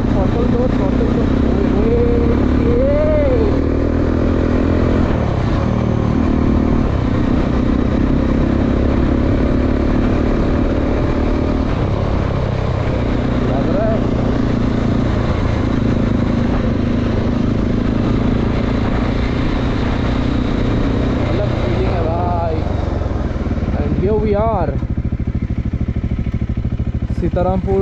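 Motorcycle engine revving and accelerating on an open road ride near Purulia, a steady loud drone with rising throttle sweeps toward the end, with a rider's voice talking over it throughout.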